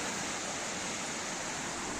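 Steady roaring rush of a mountain waterfall, broadband and continuous at close range, with no voices over it.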